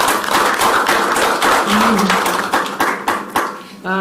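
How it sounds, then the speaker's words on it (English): Applause at a school board of trustees meeting for a retiring colleague, a short burst of scattered, fairly close hand claps that thins out toward the end. "Please give her a round of applause."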